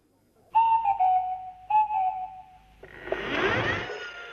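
A swanee whistle from the Clangers children's animation plays two sliding, warbling tones, each held then bending down, followed by a burst of hissy, rushing noise.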